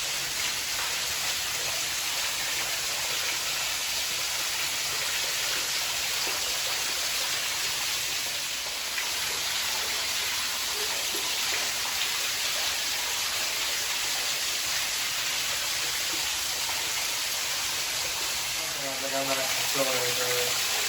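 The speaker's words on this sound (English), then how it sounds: "It's kind of a deep pool, and then the waterfall is running right off that rock." An underground waterfall spills off a rock into a deep pool inside a cave, a loud, steady wash of rushing water filling the space, with brief voices near the end.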